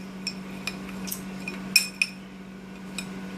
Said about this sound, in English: So I stir it all up like that.